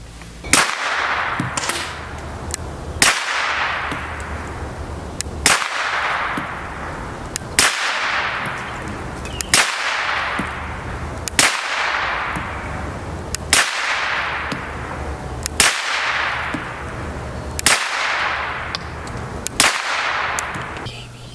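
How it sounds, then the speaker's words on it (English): A series of sharp gunshots from a Smith & Wesson M&P pistol fitted with an Apex Tactical R.A.M. trigger part, fired one at a time at a steady pace, each crack followed by a brief ringing echo outdoors. "So let's go out and fire it"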